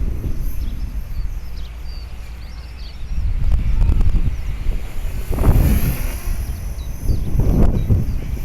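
Gusty wind blowing outdoors around a small HK-450FBL model helicopter, buffeting the microphone with a steady rumble that swells into stronger gusts several times, with faint birdsong in the background.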